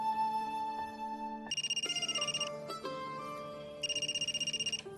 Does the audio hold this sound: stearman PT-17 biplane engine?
no